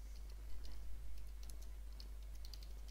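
Keys on a computer keyboard are tapped to enter a command, a quick run of faint, light clicks over a steady low hum, with no voices.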